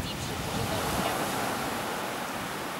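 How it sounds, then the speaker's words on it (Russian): Steady wash of surf roaring close by on the southern coast of Koh Samui, Thailand, a continuous broadband rush of high waves breaking over a rocky bottom, with some wind noise on the microphone. "Любуемся на волны, шум прибоя."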